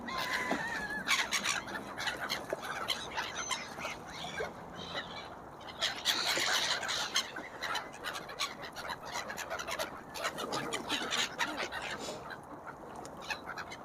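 Geese, ducks and other waterbirds call at a lake in December, a dense overlapping chorus of honks and squawks carrying steadily from a distance against outdoor background noise.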